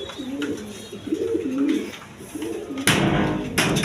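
Domestic pigeon cooing close by in a repeated rolling, throaty pattern, with a few sharper noises and rustles toward the end.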